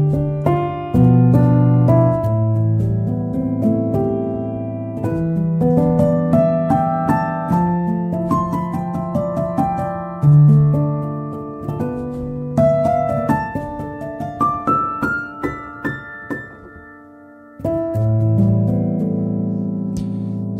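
A soft felt piano patch from Native Instruments Piano Colors plays chords and melodic notes alone, close and warm, with gently decaying tones and one brief pause before playing resumes.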